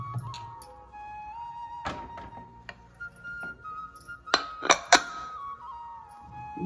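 Metal lid set onto a pressure cooker on a stove while cooking bisi bele bath, a few sharp clanks and clinks, the loudest cluster near the end, over a faint background hum.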